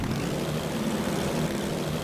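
A propeller airplane engine drones steadily in the video game Totally Reliable Delivery Service. The sound is a constant, fairly loud hum with no speech.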